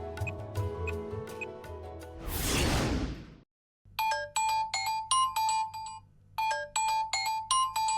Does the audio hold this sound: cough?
no